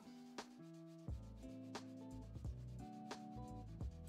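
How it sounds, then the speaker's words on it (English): A leather edge is sanded with 220 grit sandpaper in several distinct, quiet rubbing strokes with brief pauses between them, close up and with no talk. "You can either lay it down flat and sand like this, or pick it up."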